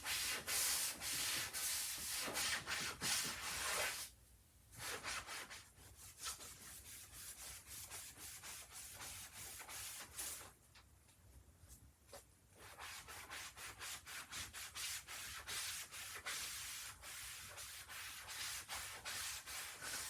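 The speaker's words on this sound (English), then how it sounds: "So then you just keep scrubbing and scrubbing until you have the desired look that you want." A stained wooden surface is scrubbed by hand to lift glue stains, a steady rasping rub of quick strokes broken by two short pauses, close and alone with no talk.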